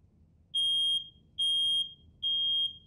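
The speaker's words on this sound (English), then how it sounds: "smoke activates the smoke alarm." A residential smoke alarm sounds during a home fire demonstration, giving three loud, high, piercing beeps at an even pace with short silent gaps between them.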